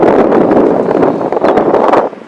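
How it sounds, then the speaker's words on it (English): Strong wind from Hurricane Dorian blows in a steady roar with gusty surges inside the storm's eye, loud and close, buffeting the microphone and easing off briefly near the end. "There's the wind blowing in the other direction."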